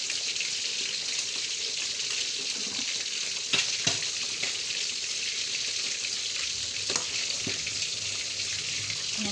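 Fish frying in a pan hisses and crackles in a steady, dense sizzle, with occasional sharper pops and no talking.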